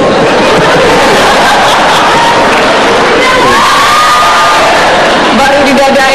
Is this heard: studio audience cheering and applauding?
yes